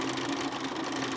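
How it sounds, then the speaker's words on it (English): A sewing machine stitches quilt fabric with a steady, rapid mechanical whir, close and continuous for the whole short span, with no talking. "and then I just sew, and then I just continue sewing on the other side"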